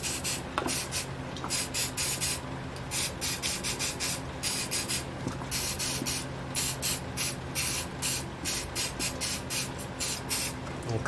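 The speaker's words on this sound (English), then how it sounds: "So let us spray it and then let it sit for a little." Aerosol spray hisses onto a part of a Homelite SX-135 string trimmer, model UT20601, in a quick rhythmic series of short, loud bursts close by, with no voices.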